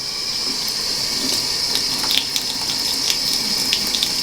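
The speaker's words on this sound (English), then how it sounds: "you're just going to take some warm water and some soap and wash it out a little bit" Warm tap water gushes steadily from a faucet into a glass candle jar being rinsed out with soap, making a continuous close splashing hiss with small bubbling surges and no voices.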